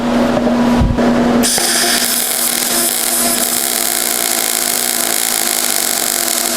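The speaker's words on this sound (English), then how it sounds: "So I wanted to demonstrate how good it welds whenever you have a gap." Flux core MIG welding with a MIG-205DS welder across a gap, a steady loud crackling hiss that continues without a break after a brief start, with no talking.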